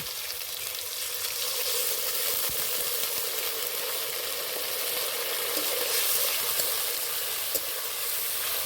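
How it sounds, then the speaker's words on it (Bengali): Prawns sizzle steadily in a pan after chopped tomato and a little water go in, a dense, even hiss of frying that runs unbroken with occasional soft pops and no voices. "কুচি করা টমেটো অল্প একটু জল দিয়ে দেব"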